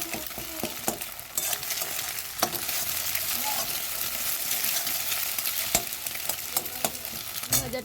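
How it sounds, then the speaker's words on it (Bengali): Egg and onion fry in a pan at home, giving a steady close sizzle broken by frequent sharp scrapes and clicks of stirring, with no one talking over it. "ডিমটা আর পেঁয়াজটা ভালো করে একটু ভেজে নিচ্ছি।"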